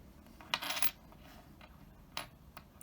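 Coins, a mix of 5-cent and 10-cent pieces, drop and clink in two separate bursts: a longer jingling cascade, then a shorter clatter, close and fairly quiet with no talk.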